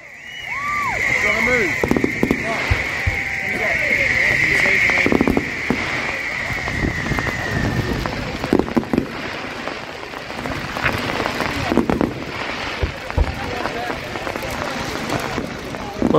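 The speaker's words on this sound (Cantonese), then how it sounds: "咦，我哋呢邊都好似開始放煙花咯喎！" Fireworks set off nearby at Lewes Bonfire Night, with a rising whistle followed by scattered sharp pops and bangs over a noisy outdoor crowd, some voices audible.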